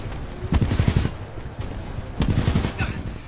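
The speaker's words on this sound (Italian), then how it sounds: "Mi sparano, e chissà come mai." Rapid bursts of automatic gunfire in the shooter Titanfall 2, two short volleys of dense close shots separated by a brief lull, loud and punchy.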